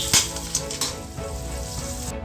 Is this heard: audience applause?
no